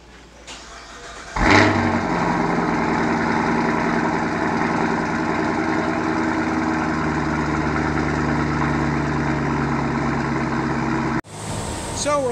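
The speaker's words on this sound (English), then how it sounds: "We have not started this thing up yet, and we're going to start it now and get that baseline pulled." A 2018 Cadillac CTS-V with a stock airbox and Corsa catback cranks briefly, fires with a loud burst, then settles into a steady, rumbling idle that runs for about ten seconds before cutting off abruptly.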